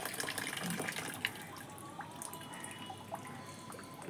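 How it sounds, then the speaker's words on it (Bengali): Plants in a home garden being watered, with a steady close trickle and splash of water running throughout, small drips and light knocks on top, and no voices. "এখন আমি গাছে জল দিচ্ছি।"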